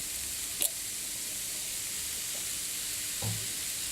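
Rice stir-frying in a pan with oil, a steady, fairly quiet broadband sizzle throughout, with a couple of brief clinks or scrapes of stirring, no talk.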